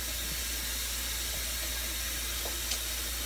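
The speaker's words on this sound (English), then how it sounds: "I got water running so you can have some nice ice cold water." Water runs steadily from a lab sink tap in a continuous broadband hiss, close and even throughout, with a few faint clicks and no talking.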